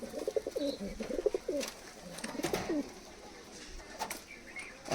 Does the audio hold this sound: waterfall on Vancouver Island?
no